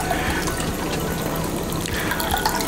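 Cold water in which tea had been steeping is poured out during outdoor tea brewing over an open fire, a steady, close splashing trickle that continues without pause and with no talking.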